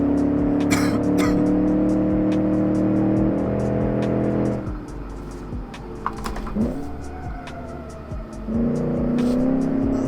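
A 1966 Gasmea race car in the video game Automation laps a race track, its engine droning steadily, then dropping and revving back up through a corner with a brief tire squeal, loud and continuous throughout.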